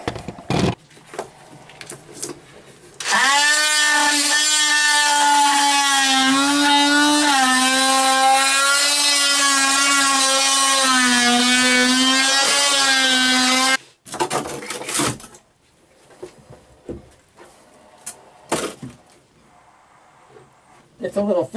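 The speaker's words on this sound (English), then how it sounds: "Using this oscillating tool. Working pretty good." Oscillating multi-tool cutting into a sailboat's hull near the chain plate, a loud, steady, high buzzing whine that runs for about eleven seconds with slight pitch wobble, framed by quieter handling noises before and after.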